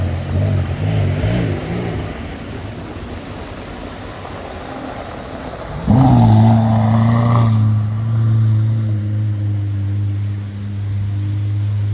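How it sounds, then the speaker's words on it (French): A Corvette C7 sports car rumbles at a car-spotting gathering in Deauville, then its engine revs sharply, rising to a loud, close roar before settling into a steady, deep drone. "Jolie Corvette C7."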